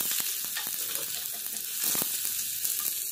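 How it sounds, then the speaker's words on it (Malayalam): Chopped onions frying in hot oil with mustard seeds in a pan, giving a steady close sizzle with faint crackles and occasional stirring scrapes. "ഞാൻ സബോള കട്ട് ചെയ്തത് ഇട്ട് കൊടുക്കുന്നു."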